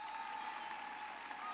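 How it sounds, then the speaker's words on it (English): An audience at a Charleston School of the Arts graduation ceremony claps steadily, a dense, even wash of applause with a faint tone under it. "Let's give them another round of applause for their accomplishments,"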